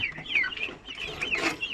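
Several chickens cluck close by at a poultry farm, a chorus of short overlapping calls with no talking.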